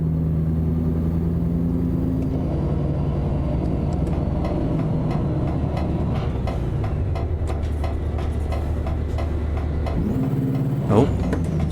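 A budget V8 Mercedes Actros truck with an open exhaust pipe rumbles low and steady as it pulls away in Euro Truck Simulator 2, with a brief rise in engine pitch near the end and talk over it.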